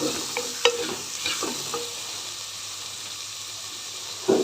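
Okra and tomatoes fry together in a pan without water, a close steady sizzle and hiss with a few scraping stirs and knocks of a spatula against the pan.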